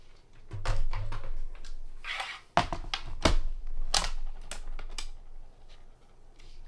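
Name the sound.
paper running through Spellbinders Platinum 6 die-cutting machine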